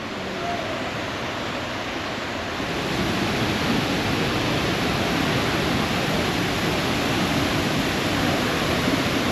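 Roar of a large waterfall in Da Lat, Vietnam, a steady broad rush of falling water that swells slightly louder after a few seconds, with no talking.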